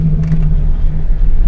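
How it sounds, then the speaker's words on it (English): A truck engine runs with a loud, close, steady low rumble, the engine idling just after being started, with no voices. "I'll start the truck again."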